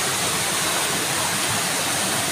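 Water from a mountain cold spring at Bulao, Talakag, Bukidnon, rushing in a steady, dense, close roar like a small falls, with no voices.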